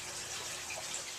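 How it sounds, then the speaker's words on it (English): Water poured into a seedling tray holding coir and cups, a steady soft splashing trickle, fairly faint and continuous with no talk. "We'll fill it to about maybe half on the tray, just enough so these cups will be sitting in the water."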